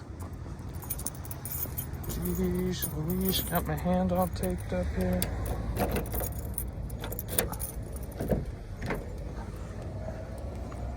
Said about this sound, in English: Grab my keys.